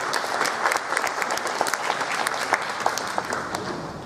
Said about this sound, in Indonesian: tepuk tangan buat Pak Roni.